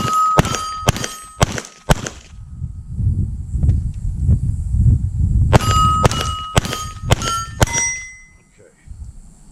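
Pistol rounds ring off steel target plates on a wide Steel Challenge shooting stage: two quick bursts of sharp metallic clangs and dings, several hits in fast rhythm, with a low rumble of movement between the strings.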